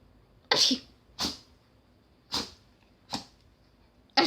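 A dog sneezes four times in quick succession, each a sharp, breathy burst spaced about a second apart, close and fairly loud in an otherwise quiet room, with a fifth sneeze starting at the very end.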